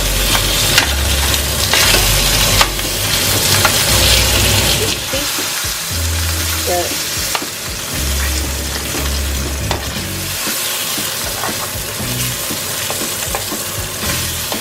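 Food sizzles loudly in a frying pan on a keto dinner, with steady crackling spatter and a few clinks and scrapes as it is stirred, with no talking.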